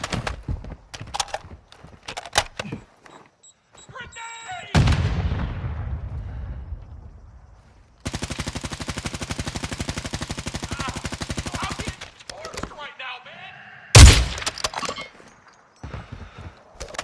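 Gunfire from the video game Call of Duty Warzone 2: loud bursts of shots with a long dense rapid-fire stretch and a sharp blast near the end, amid game sounds and no talk.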